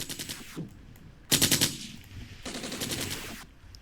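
Automatic gunfire from the wargame Armored Brigade, Polish forces engaging Soviet mechanized infantry, rattles in several rapid bursts of varying loudness with no talk.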